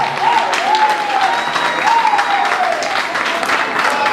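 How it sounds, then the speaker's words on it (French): An indoor audience claps loudly and continuously for a performing group at a live show. Dense, close applause is mixed with a few whistles. "Je voudrais qu'on applaudisse très fort pour ce groupe."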